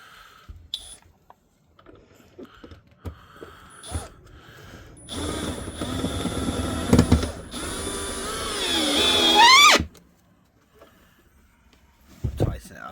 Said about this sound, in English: and you're going to screw into the wood.